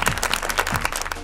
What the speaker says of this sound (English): Let's give a warm round of applause to our favorite 6-year-old.